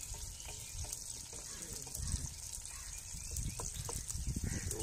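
Chicken karahi browns in a pan in a village outdoor setting, giving a steady close sizzle with intermittent stirring scrapes and low rumbling background noise, no talk heard.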